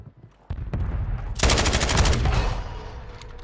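Call of Duty gunfire: a single sharp shot, then a sustained burst of rapid automatic fire from about 1.4 seconds, loud and close, fading into a lingering tail.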